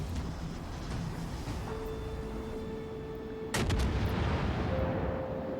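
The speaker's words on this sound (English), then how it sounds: "So we get close enough for them to start shooting" Naval guns fire in the World of Warships Legends video game, a heavy boom landing midway over a low rumbling background, with faint tonal game sounds before and after it.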